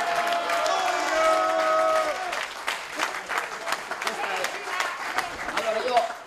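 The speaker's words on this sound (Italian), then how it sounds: "un grandissimo applauso a colui che l'ha inventato, l'ha creato e lo ha gestito per anni, Giuseppe Fossola" A crowd claps and cheers at a sports club's 30th anniversary party, the applause dense and loud at first, then thinning into scattered claps with voices mixed in.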